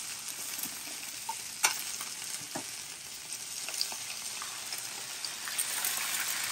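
Eggs frying in a pan for breakfast, a steady close sizzle and crackle with a few sharper pops and spatters, no talking.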